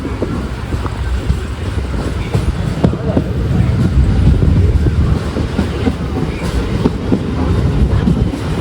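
A Kanniyakumari–Kollam MEMU train runs steadily, heard from on board as a loud, continuous rumble with rhythmic rail clatter and wind rush throughout.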